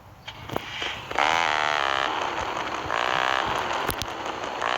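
A loud, droning modified car exhaust note in Grand Theft Auto: San Andreas with rising harmonic pitch sweeps, steady and close, with brief clicks; no talking.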